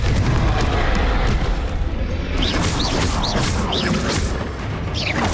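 Confringo explosive spell blasts in the Hogwarts Legacy game, heavy booming bursts within a loud, dense rumble of magical combat, with several whistling streaks flying overhead.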